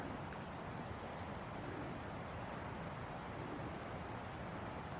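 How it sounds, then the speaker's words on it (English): Gentle rain patters steadily off pine boughs in the Colorado mountains near Estes Park, a soft, even wash of drips with no voices. "You can hear the rain coming down off these little"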